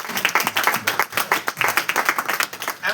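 A group claps for its hero of the year in a brisk, dense burst of applause from a small crowd, close and lively.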